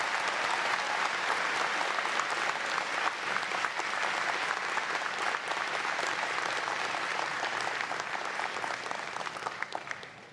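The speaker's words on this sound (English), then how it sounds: "Please join me in a round of applause for our graduates." Sustained applause from the audience at a University of Winnipeg convocation for the graduates, a long, dense and even roar of clapping that tapers slightly at the end.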